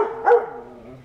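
A female dog gives a single short bark close by, with a brief tonal ring after it and no one talking.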